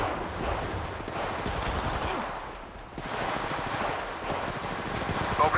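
Rapid automatic gunfire bursts from Apex Legends Mobile, a battle royale shooter, rattle continuously throughout, loud and dense, with a voice speaking underneath the shots.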